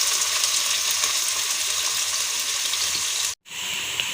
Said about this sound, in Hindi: इसके बाद प्याज ऐड करेंगे और इसको भी लाइट ब्राउन करेंगे